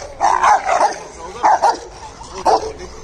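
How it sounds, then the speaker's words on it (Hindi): Rottweiler barking in a park during a morning walk, a few loud close yips and barks in short bursts with whimpering tones between them. "किसी और को भौंक रहा है"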